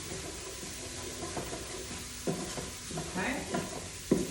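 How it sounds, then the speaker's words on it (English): Paprika sizzling in a pan of coconut chicken curry while a utensil stirs through it, giving a steady low frying hiss broken by several sharp scrape-and-clatter stirring strokes. "The paprika. Might give it a bit of a stir."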